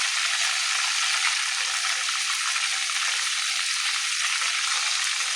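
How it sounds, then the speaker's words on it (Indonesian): Chicken satay skewers fry in a pan with a steady, dense sizzle that holds constant and close throughout, with no talking. "Goreng dulu satenya"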